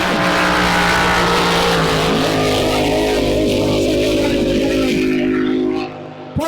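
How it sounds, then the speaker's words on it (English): A loud, sustained roar of a racing hydroplane boat engine, its pitch wavering as it loads and unloads, then dropping off near the end. "You can hear the boat loading and unloading."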